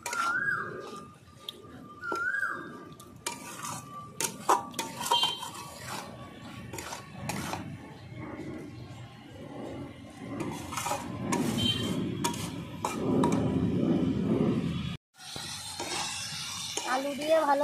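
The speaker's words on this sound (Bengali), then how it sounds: "ভালো করে আমি আলুটা দেওয়ার পরে আবার 1 মিনিট কষিয়ে নেব।" A spoon clinks and scrapes against a pan while fried potatoes are stirred and sautéed with fish curry spices, with light sizzling beneath and a voice talking over parts of it.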